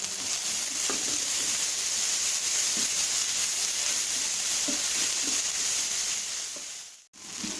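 Onion with ginger garlic paste fries in a pan for a masala dosa filling, making a loud, constant close-up sizzle with a few faint stirring scrapes. It cuts out for a moment near the end.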